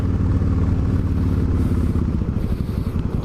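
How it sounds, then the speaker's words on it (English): A motorcycle engine rumbles steadily underneath a rider on the move, a loud, close, low throbbing drone with wind buffeting and no talking. "I love the sound of this bike."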